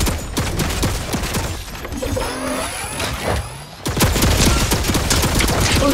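Rapid turret gunfire and mechanical clatter ring out in the video game Fortnite, dense repeated shots at close range with a brief lull before the firing resumes.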